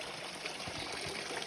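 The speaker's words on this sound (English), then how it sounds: "See, very clear stream," Clear mountain stream on a steep trail near Pedra da Mina, Brazil, flowing as a steady, faint broadband rush and trickle with no voices.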